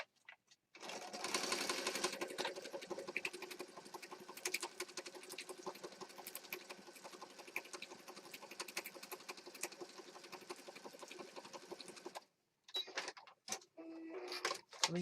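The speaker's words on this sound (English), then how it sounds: "We just sewed down that." A sewing machine stitches through a mixed media junk journal, running in a long, fast, steady burst of rhythmic mechanical chatter, then stopping and giving a few short closing stitches, fairly quiet and close with no talking.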